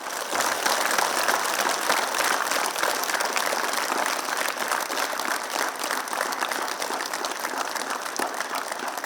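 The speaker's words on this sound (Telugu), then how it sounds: "ఒక్కసారి గట్టిగా చప్పట్లు కొట్టండి" Steady, dense audience clapping at a Telugu meditation gathering, loud and sustained throughout with no talk over it.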